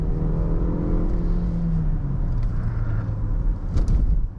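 A Jaguar E-Pace's engine pulls hard toward redline, its rising whirring drone climbing in pitch and then easing, heard from inside the cabin with steady road rumble beneath.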